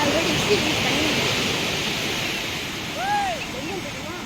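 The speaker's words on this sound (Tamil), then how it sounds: "கடல் அலைகள் நல்லா இருக்குது" Sea waves at Varkala beach wash in as a steady broadband surf roar, fairly close, with a faint chirping sound rising briefly over the wash.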